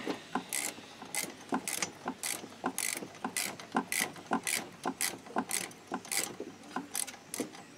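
A hand ratchet clicks rhythmically while tightening a bolt on a Kymco Agility 50 two-stroke scooter, a steady series of sharp, close back-and-forth ratcheting strokes with no talk.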